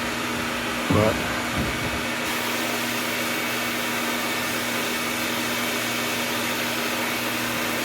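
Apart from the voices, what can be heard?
vacuum running during media blasting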